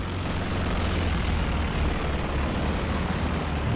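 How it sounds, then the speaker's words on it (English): A Werfer rocket artillery barrage explodes in a Company of Heroes 2 battle, forming a dense, continuous roar of blasts and rumbling that stays loud and unbroken throughout. "That was from the artillery officer calling an extra whiffer barrage there."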